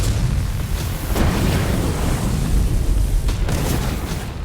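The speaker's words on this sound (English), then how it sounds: "It's going to be a massive explosion." A fuel tanker ship exploding, a massive sustained roaring rumble with bursts of heavy low booming, loud and continuous throughout.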